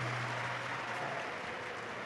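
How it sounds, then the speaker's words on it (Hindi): An audience at a Shiv Mahapuran religious discourse in Bhilwara, Rajasthan, breaks into steady, fairly faint applause that continues evenly throughout, with a low hum underneath. "एक बार जोरदार ताली बजाकर साथ में।"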